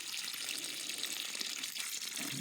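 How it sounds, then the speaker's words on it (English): Spring water from a farm water source flows in a steady, soft rushing trickle, continuous and fairly faint, with no voices. "The water just keeps flowing."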